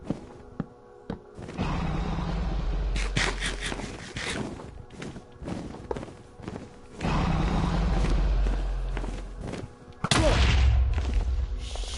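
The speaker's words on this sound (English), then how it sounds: "That was a crazy explosion." Loud explosion blasts in a Minecraft dragon fight, a heavy booming roar at the start and again in the middle and at the end, each decaying into rumble, close and alone.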